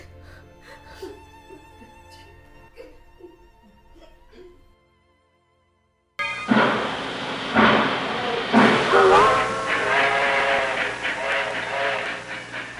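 A train rumbles and rattles loudly, with clattering wagons and shifting tones, after a quieter passage and a brief silence.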